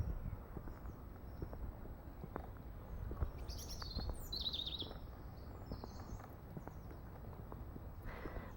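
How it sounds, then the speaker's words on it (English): Birds chirp and sing faintly in trees after a storm, with scattered high calls over a soft, rumbling outdoor background and occasional thumps or footsteps. "Just listen to those birds."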